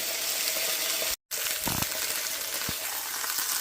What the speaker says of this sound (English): I'll put a little bit of water in the pan, get some steam going